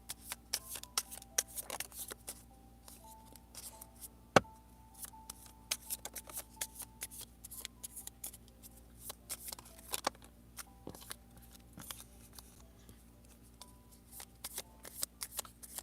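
Tarot cards are shuffled by hand at close range, a quiet, steady run of riffling and flicking with sharp card snaps scattered throughout and no voices.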